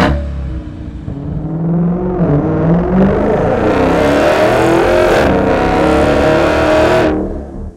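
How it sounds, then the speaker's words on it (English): Dodge Charger fitted with a MagnaFlow xMOD straight-through exhaust revs up from idle into a loud, deep rumble, holds at high revs, then cuts off sharply near the end. "If you're looking for that deep signature MagnaFlow tone, but still want to have good street manners"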